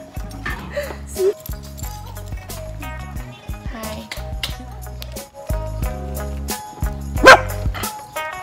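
Puppy barks and yips in short bursts under background music, close and fairly loud, with a person greeting it in between.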